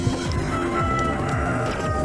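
A rooster crows somewhere behind the action in Metroid Samus Returns, a short cackling call buried in loud, busy game sound that lasts about two seconds.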